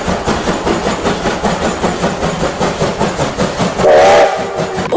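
A toy train chugs in a steady, rapid rhythm, then gives a short whistle toot near the end.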